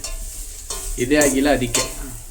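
Grated carrots sizzling in hot ghee for carrot halwa while a spoon stirs and scrapes the pan, close and steady frying hiss with a few louder scraping strokes.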